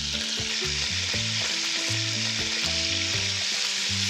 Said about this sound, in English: See how fast it's gonna brown in that bacon fat?